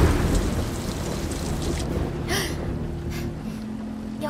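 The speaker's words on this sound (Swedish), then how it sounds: "Det är bara åskan." Thunder rumbles in an animated film, a deep rolling roar with a sharper crack midway, heavy and close and with no talk over it.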